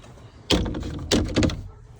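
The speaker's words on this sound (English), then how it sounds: "And this dual door comes out to block from wind, and then also allows you access to this storage area." The dual door on a 2008 Yamaha 212X wakeboard boat is pulled open, giving a thump and then two more clunks and rattles close by, with no voices.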